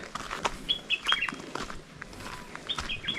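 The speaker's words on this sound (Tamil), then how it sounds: "சின்ன தேன் சிட்டு குருவி மாதிரி சவுண்டு வருது." Small forest birds chirping like a sunbird, with thin high twittering calls and quick whistled notes scattered through dense woodland, mingled with rustling and occasional flapping, moderately close and unaccompanied by talk.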